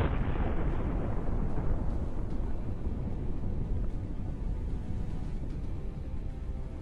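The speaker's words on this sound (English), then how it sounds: "Incredible explosion creates a new cloud against the blue sky." Explosion of a Russian military convoy hit by HIMARS rockets, a sustained heavy low rumble that holds steady for several seconds with no voices over it.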